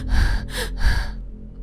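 A boy panting hard after running in, three heavy gasping breaths in a quick rhythm, close and clear, with no talking.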